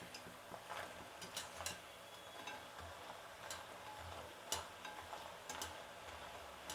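Honey sweets (thene mithai) frying in hot oil, a soft continuous bubbling hiss with scattered sharp crackles and light pops, quiet and steady with no voices.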